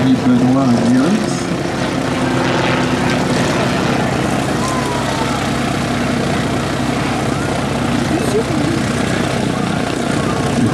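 A Bücker Jungmeister aerobatic plane flies at an air show, its propeller engine a steady, loud droning hum that holds for the whole stretch, with a voice talking over it.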